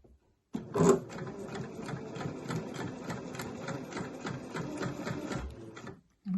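A sewing machine runs a long basting stitch at maximum stitch length around a tee neckline within the seam allowance, starting after a brief pause and keeping a steady, rhythmic mechanical whir before stopping near the end.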